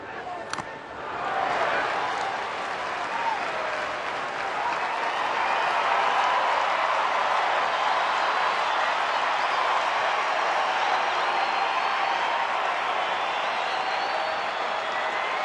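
A baseball crowd of about 30,248 applauds steadily at the July 21, 2009 Arizona at Colorado game, a dense wash of clapping and cheers that swells after a second and holds loud, with a commentator talking over it.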